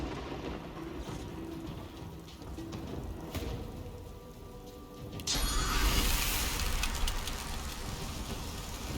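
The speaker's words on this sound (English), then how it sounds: "May as well make it rain." Steady rain from a spell cast in Divinity Original Sin 2, a fantasy role-playing game, swelling into a louder, denser downpour partway through, with rumbling thunder-like texture underneath and no talking.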